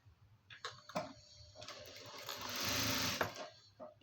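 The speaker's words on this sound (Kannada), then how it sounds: "ಕನ್ಫರ್ಮ್ ಮಾಡಿದ ನಂತರನೇ ಸ್ಟಿಚ್ಚು ಸ್ಟಾರ್ಟ್ ಮಾಡಬೇಕು" A sewing machine stitches lining onto cloth in a few short whirring bursts, then one longer steady run in the middle. The mechanism sounds close and fairly quiet, with soft handling clicks between the runs.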